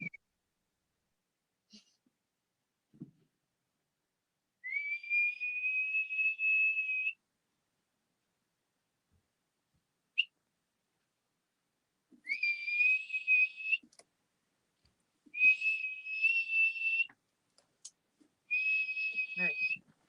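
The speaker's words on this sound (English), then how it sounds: "quit whistling now" A person whistles in several long sustained high notes separated by silence, fairly close and clear, with a few faint clicks in between.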